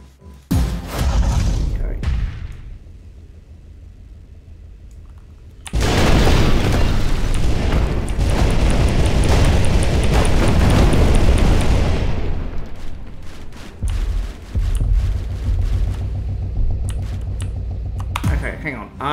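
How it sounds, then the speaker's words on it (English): Cannon firing and exploding in the destruction video game Instruments of Destruction, with loud booming bursts and a long rumbling blast in the middle, broken by brief quieter gaps. "I wanna do the cannon and see what happens there."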